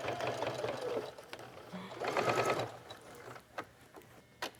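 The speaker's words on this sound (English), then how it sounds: "So this sewing machine works great for going over all those bumps." A home sewing machine stitches through a fabric-scrap wallet with matching thread, whirring in short motorized bursts separated by pauses and light mechanical clicks.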